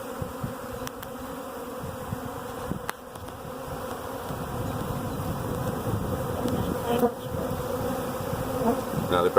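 A swarm of wild honey bees gives off a dense, steady buzzing drone, close and continuous throughout, with no voices over it.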